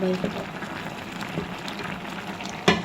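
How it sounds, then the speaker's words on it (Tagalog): Egyptian rice (esh masry) at a rolling boil in a pot gives a steady bubbling hiss throughout, with a brief louder clatter near the end. "Ayan, kulong-kulo na siya, oh."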